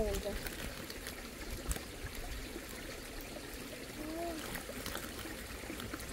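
Water flows steadily through a fish trap in a rural Thai waterway, a continuous trickling wash with faint voices and a bird call.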